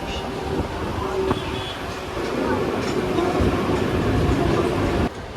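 A Mumbai local train rumbles steadily at platform two of Dadar station, a loud low roar with occasional squeals and clanks, ending in a sudden drop.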